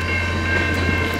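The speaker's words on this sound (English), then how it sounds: "This must be the Churchill train." A brief burst of rumbling noise from the westbound VIA 693 passenger train to Churchill passing at Portage la Prairie, steady low droning with faint rhythmic clatter, close and continuous throughout.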